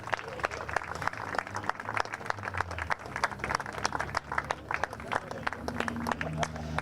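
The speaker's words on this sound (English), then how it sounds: "Can we give John an extra round of applause?" An audience claps for John, a London Marathon runner, at a motor racing day at Oulton Park, with scattered distinct hand claps, a loose rhythm, and talk and crowd murmur running beneath.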